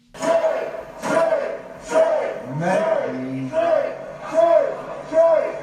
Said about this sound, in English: the crowd starts chanting, shame